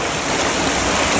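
A river stream rushes in a dense, continuous broadband roar, loud and close, with no voices over it.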